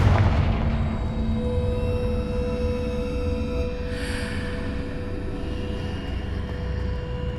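Blast from the Confringo spell in the game Hogwarts Legacy: a heavy boom at the start that settles into a sustained rumble with ringing tonal hum underneath and a brief flare of noise midway.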